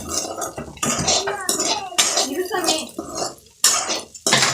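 Country chicken sautéing with ginger and garlic in a pan, with the clatter and scrape of a spoon against the pot and utensils. The sound is busy and close, and a voice talks over it.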